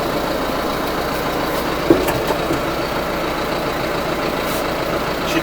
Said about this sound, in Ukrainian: такий звук 4-циліндрового дизеля.